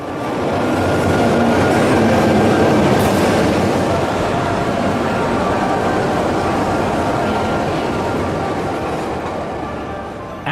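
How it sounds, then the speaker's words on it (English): Riding aboard a Pyongyang metro subway train: a loud, continuous rumble and roar of the carriage in motion, with faint rail clatter throughout and no talk. "After the metro ride"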